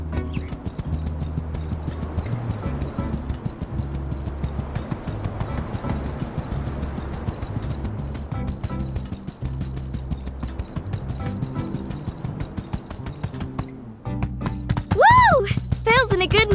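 Horse galloping in the video game My Time at Sandrock, a steady clip-clop of hooves running without pause under game music and ambience, with a brief whinny-like call near the end.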